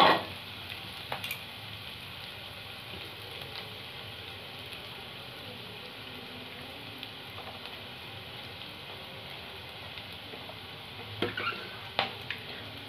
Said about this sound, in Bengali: আমি এটাকে ফ্রাই করব ভালো করে।